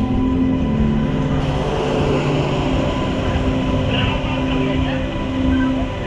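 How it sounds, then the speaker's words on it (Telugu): At Shravanabelagola railway station, a train rolls in with a loud, continuous rumble and mechanical hum that holds steady from start to finish. "శ్రావణ బెలగొల రైల్వే స్టేషన్కి 12:15 కల్లా ట్రైన్ నన్ను సేఫ్గా దింపేసింది"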